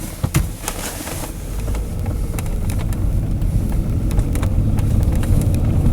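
Suzuki Verona car driving, a steady low engine and road rumble with wind buffeting the microphone, a few sharp knocks near the start, growing slightly louder over the run.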